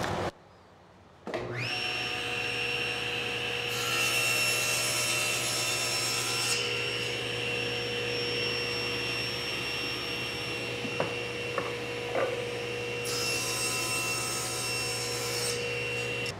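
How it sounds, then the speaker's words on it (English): Woodshop dust collector humming steadily and close, a constant droning whine with faint knocks of handling wood now and then. "Let me turn on the dust collector."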